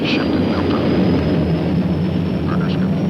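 Lockheed SR-71 jet engines running up on the runway before takeoff, a loud, steady broadband roar with a thin high whine, heard from the cockpit under a little crew talk.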